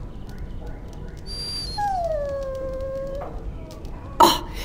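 A dog whimpers in a video game, a long descending whine with tonal harmonics followed by a short yip, heard over a steady game ambience.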